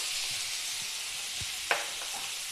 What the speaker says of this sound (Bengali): আলু আর পেঁপে কষে নিয়েছি এরকম করে।